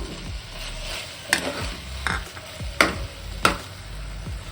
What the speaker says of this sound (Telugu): ఇప్పుడు నేను పన్నీర్ ముక్కలు అనేవి వేసేసుకుంటున్నా